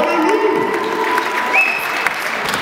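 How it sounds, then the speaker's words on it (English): A crowd applauds and cheers for the UW Hip Hop dance team at a Humber show, dense clapping with a few whoops and a high sustained tone riding over it, steady and fairly close. "let's hear a round of applause for UW Hip Hop!"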